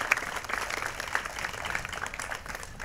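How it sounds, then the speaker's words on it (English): A Flag Day gathering bursts into applause, a continuous moderate crowd clapping heard from a little distance, with no speech over it. "that's an applause line"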